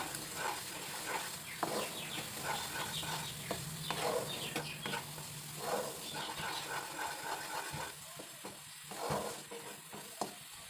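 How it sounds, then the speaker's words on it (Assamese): Steady scraping and stirring of jaggery with ground spices in a pan, a soft sizzling hiss, continuous and close, a few sharper clinks of the spoon. "এতিয়া মছলাখিনিৰ সৈতে গুড়খিনি ভালকৈ লৰাই ল'ম।"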